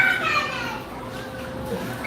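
Small children's voices chatter and play at a distance over steady background noise, heard from inside or near a car, with no clear words.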